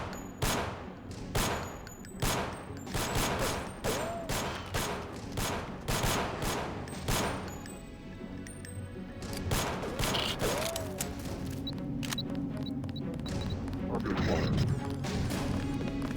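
Gunfire in the Deus Ex GMDX mod: a steady series of sharp shots with crashes and impacts, dense at first and then thinning into a continuous battle din.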